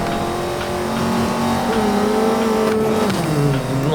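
A Lamborghini engine in the racing video game Need for Speed Most Wanted 2012 drones and revs continuously, pitch shifting up and down as it accelerates, loud and close.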